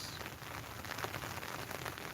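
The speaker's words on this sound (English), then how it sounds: "Today it's raining" Rain falls outdoors on a garden plot during no-till potato planting: a steady, even hiss of small drops pattering on the surface, continuous and close, with no talking.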